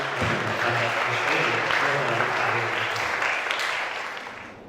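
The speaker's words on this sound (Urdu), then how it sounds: "آپ تالیوں سے طاہر نقاش صاحب کو استقبال کیجیے" Audience applause at an Urdu literary festival in Mumbai welcoming a guest speaker, a full steady round of clapping from a hall crowd with a low murmur beneath, fading slightly at the end.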